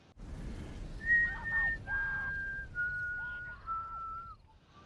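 A man whistles a slow, clear tune of several long sustained notes, gently sliding in pitch, heard over a quiet low background in a 2010 film scene.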